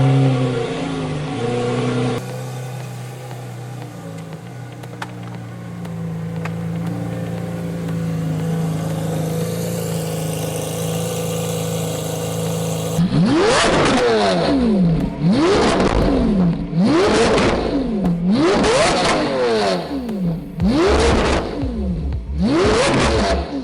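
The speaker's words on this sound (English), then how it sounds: "We took it outside so we could really experience the exhaust orchestra." A Lamborghini Aventador Roadster idles outdoors with a steady drone, then revs hard several times in quick succession, each rev rising to a loud exhaust roar and falling back.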